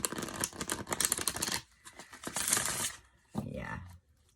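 A Tell It Like It Is tarot deck being shuffled, with quick riffling card flutters in a couple of bursts separated by short pauses, close and crisp.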